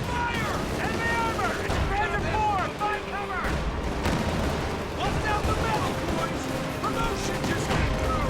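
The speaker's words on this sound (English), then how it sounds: "Katyusha firing somewhere though" Katyusha rocket artillery fires in a WWII real-time strategy game battle, a dense rumble of launches and blasts layered over other combat noise, with a commentator talking throughout.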